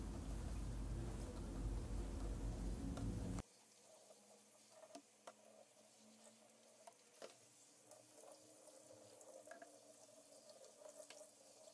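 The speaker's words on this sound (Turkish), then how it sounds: "musluk altında durulama yapıyorum" Tap water runs hard and loud over a greasy kitchen extractor hood filter for about three seconds, then drops to a quieter trickle with scattered splashes and clinks as the rinsing continues.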